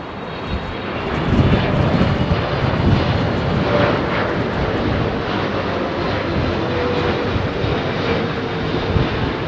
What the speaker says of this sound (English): This is your Thai 777.